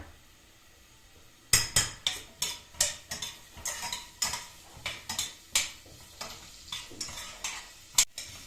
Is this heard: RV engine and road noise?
no